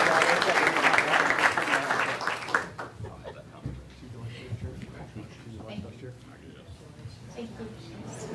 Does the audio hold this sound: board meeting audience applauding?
yes